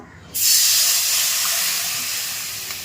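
Running water comes on abruptly and pours in a steady, loud rush while something is rinsed in a home kitchen, tapering off slightly as it flows.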